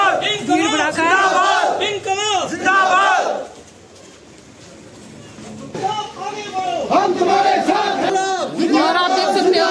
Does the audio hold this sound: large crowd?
yes